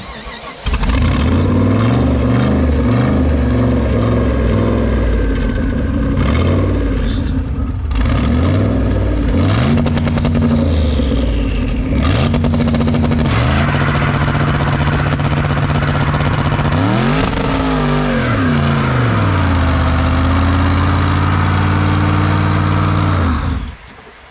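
A car engine with a Holley ignition and two-step is revved hard and sustained during a burnout, loud and close throughout, rising and falling in pitch as the driver works through second gear.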